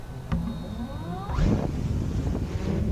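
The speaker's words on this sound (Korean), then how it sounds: "자 엔진 소리 경쾌합니다" Small drone motors spin up after a start, a rising whir with a thin tone that swells into steady broadband rushing and wind noise close to the microphone.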